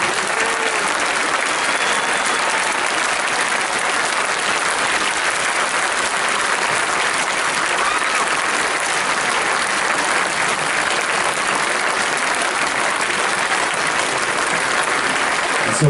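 A concert audience at a show applauds loudly and steadily for the full stretch, a dense, unbroken wash of clapping with no talk over it.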